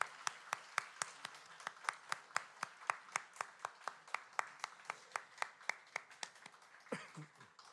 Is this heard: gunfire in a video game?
no